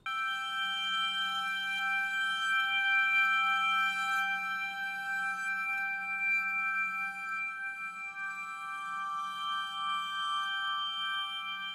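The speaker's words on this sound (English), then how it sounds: "We're going to be building this kind of particle cloud of Bode's glockenspiel sounds." Ambient cloud of glockenspiel tones spawned as particle sounds in Unreal Engine, a steady shimmer of sustained bell-like pitches ringing together at moderate level, alone with no talk.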